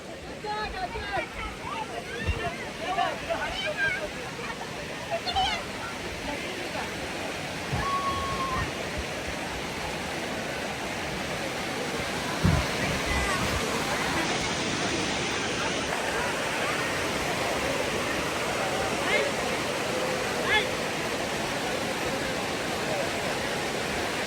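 A waterfall at Lonavla in the monsoon roars with force in a constant, dense rush of water, with faint voices now and then beneath it.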